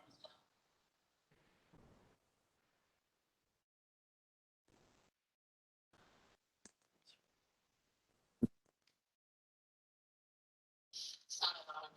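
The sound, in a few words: computer mouse clicking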